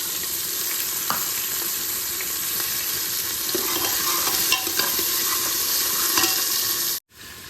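Tomatoes and green chillies fry for an arbi curry, a steady bright sizzle in the pan with occasional stirring scrapes and taps, close up, ending in a brief cut.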